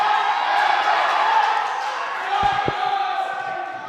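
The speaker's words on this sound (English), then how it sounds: "the crowd is getting really excited" Loud, sustained crowd roar at a high school varsity wrestling match in a gym, a dense steady wall of shouting and cheering with a couple of thuds near the end.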